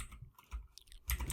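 Someone types code into a computer keyboard while setting up a MongoDB database connection, giving a short, quiet run of irregular key clicks that ends in a slightly louder burst.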